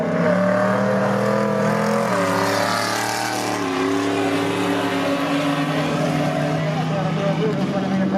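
An open-wheeler race car powers out hard on a dirt track at Whyalla. Its engine drone is loud, steady and rising in pitch as it accelerates, with a race commentator talking over it throughout.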